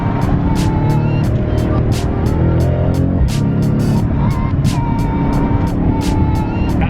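A Mercedes-AMG CLA on a Gumball 3000 road rally drives at speed, its engine a steady, loud drone with dense low rumble and regular rhythmic pulses sustained throughout.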